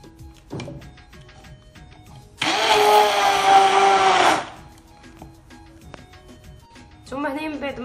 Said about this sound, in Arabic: دونك غادي نطحن جميع هاد المكونات مزيان